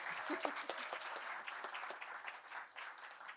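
Soft, distant applause from the audience at a university arts showcase as a performer comes onstage; even clapping throughout with no talking.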